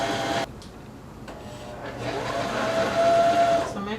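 A sewing machine runs a zigzag stitch along stretchy legging fabric, a steady mechanical whir that pauses briefly and then resumes, building slightly toward the end.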